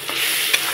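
Slit green chilies hitting hot oil with spices and turmeric in a pan, a loud, dense, continuous sizzle close up, with a brief stirring scrape near the end.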